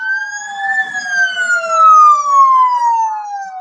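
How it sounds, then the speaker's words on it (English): A fire truck siren in a street parade wails loudly and steadily, its tone rising then sliding slowly downward, close and dominant with no talk over it. "Oh, there's a fire truck."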